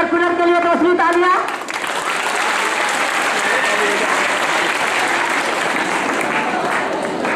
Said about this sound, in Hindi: एयर कूलर के लिए दूसरी तालियां